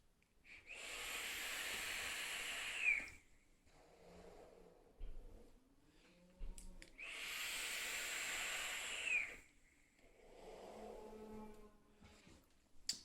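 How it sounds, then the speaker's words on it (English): Two long airy inhales drawn through a Legion RDA atomizer with wide-open air holes and Tiger coils, each a steady rushing hiss lasting a few seconds, close, with quiet exhales and breathing between them. "That is a nice vape, nice and airy, which I like."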